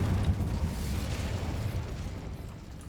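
The Incendio fire spell from the video game Hogwarts Legacy bursts out as a loud, low, roaring whoosh of flame that holds steady for a few seconds before easing off, with no talk over it.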